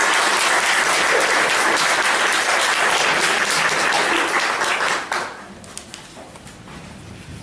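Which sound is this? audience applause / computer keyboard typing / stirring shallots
audience applause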